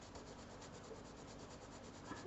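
Freshly sharpened graphite pencil scratching across paper, a very faint, close, continuous dry rubbing with soft strokes, heard alone.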